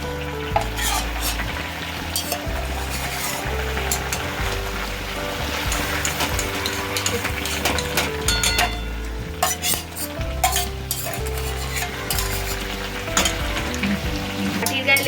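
Loud, continuous sizzling and bubbling of paneer simmering with kasundi mustard sauce in a pan, with stirring and occasional utensil clinks throughout.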